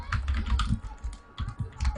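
Bursts of typing on a computer keyboard, irregular clusters of close, crisp key clicks with short pauses, while continuing with Google sign-in text is written for a classified app.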